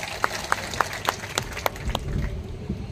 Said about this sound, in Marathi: एकदा जोरदार टाळ्या पवार साहेबांसाठी।